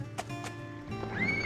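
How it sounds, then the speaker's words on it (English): A horse in the PS2 game Horsez gives a short, bright neigh near the end of a brief stretch of soft hoof clops in a field, close and fairly loud, with no talk. "I am just watching a horse walk around a field"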